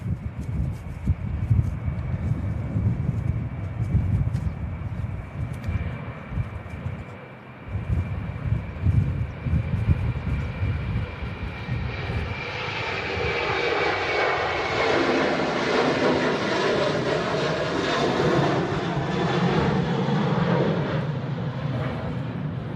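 An airliner at Manchester Airport roars past, starting as a low rumbling drone mixed with wind and swelling into a loud, steady jet whine and rushing roar over the last half.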